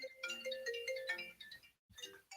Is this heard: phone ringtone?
yes